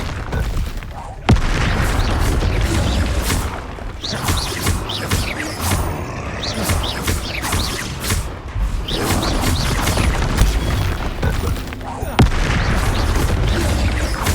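Spell blasts in Hogwarts Legacy boom and crash in a dense, almost continuous barrage of thuds and bursts, loud and close, with voices shouting between the impacts.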